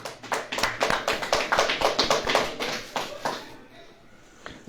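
A church congregation claps in a quick, rhythmic burst of applause that gradually fades out, with a faint voice underneath.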